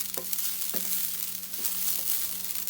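Fennel and masala roasting in a pan over a medium-high flame, a steady close sizzle with a few soft stirring scrapes and no talk.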